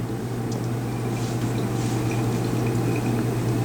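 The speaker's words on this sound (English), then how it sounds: "she's just running 5 mils of water into that same test tube" Five millilitres of water runs into a test tube during a potassium permanganate and oxalic acid lab, a faint steady trickle over a constant low room hum.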